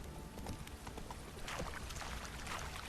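Hooves of the horse Roach clip-clopping in The Witcher 3 video game, a soft, steady trotting rhythm under a constant wash of ambient background noise.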